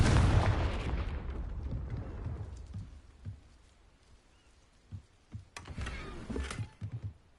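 A Confringo fire-blast spell from the video game Hogwarts Legacy bursts loudly at the start and decays into a long rumbling tail, followed later by several scattered sharp impacts and crackles.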